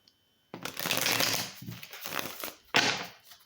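Tarot cards shuffled in the hands, a dense papery riffling that runs in quick bursts with brief pauses, then one more sharp burst near the end, close and fairly loud with no talking.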